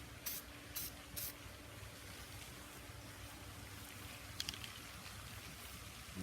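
Steel-It anti-rust stainless steel aerosol can sprayed in three quick hissing bursts near the start, followed by a steady low background hiss and faint rustle.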